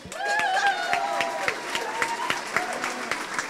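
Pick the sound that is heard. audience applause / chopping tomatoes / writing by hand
audience applause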